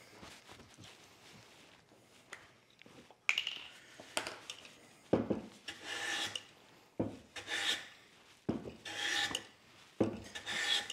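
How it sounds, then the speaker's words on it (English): Hand tool rasping across wooden end grain to cut a small chamfer, heard as a series of about seven separate scraping strokes in bursts, close and moderately loud, with quiet gaps between them. "when you do the end grain, you need to come in and cut a little chamfer first, and that'll prevent tearing out the backside."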